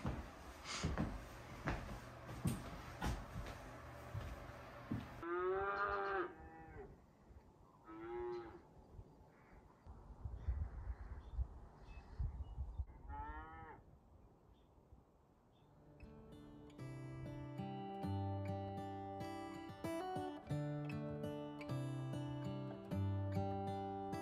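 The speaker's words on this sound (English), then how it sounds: "we have arrived and it is indeed a cattle ranch" Cattle at a cattle ranch moo several times, long, drawn-out calls at moderate distance, followed by music.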